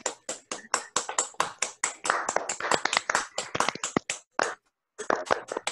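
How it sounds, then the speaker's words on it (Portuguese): An audience applauds together in a steady burst of clapping that continues for several seconds, breaks off briefly near the end, then resumes. "Vamos lá, gente, uma salva de palmas bem legal aí para o Saulo"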